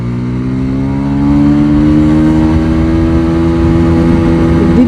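Pulsar DD 150 motorcycle pulling hard in second gear, a loud close engine note rising gradually as the bike gains speed, with a steady continuous drone and no voices.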